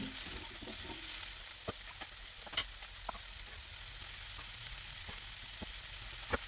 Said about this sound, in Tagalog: Tapos tuloy-tuloy na natin lutuin ang ating mga gulay.